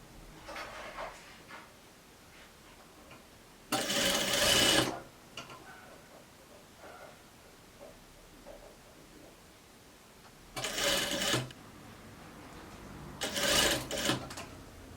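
A sewing machine stitches a dress shirt in three separate short bursts, the first and last two longer runs, between quiet stretches of handling noise.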